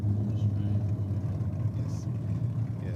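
A rented Ford Mustang doing a burnout in the lane at Sydney Dragway, with a loud, steady low engine roar throughout and indistinct voices mixed in.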